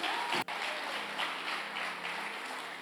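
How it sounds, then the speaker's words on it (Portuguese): A church congregation applauds steadily throughout, a dense wash of clapping at moderate distance that carries evenly without pause. "você pode aplaudir a esse Jesus maravilhoso"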